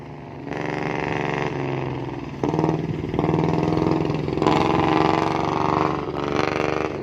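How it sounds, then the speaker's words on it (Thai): A loud fishing boat engine drones steadily and close by as the boat approaches at a coastal fishing port in Pattani, Thailand, its pitch shifting as it revs up and grows stronger, with no voices over it. "เสียงดังๆคือเรือพึ่นเขามาครับ"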